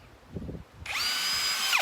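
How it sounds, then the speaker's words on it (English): A power drill fitted with a double-sided 1/8 inch bit bores a hole in a flat-free lawnmower tire, a brief thump followed by a single steady high-pitched whir lasting about a second, close and loud. "I'm going to drill a hole right up on top."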